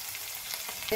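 Onion, ginger, garlic and green chilli frying in a pan for egg korma, a soft steady sizzle heard close for a brief moment, with a faint scrape near the end.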